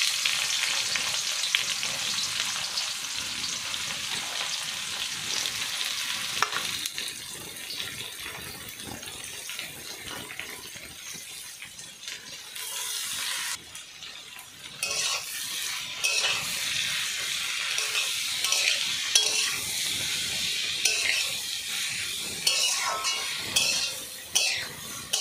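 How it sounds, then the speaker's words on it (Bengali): Chopped onions for a mutton curry, cooked with cloves, mace and cardamom, fry in hot oil until light brown, giving a steady, loud sizzle with scraping stirs throughout. "পেঁয়াজটা হালকা বাদামি করে ভেজে নিয়েছি"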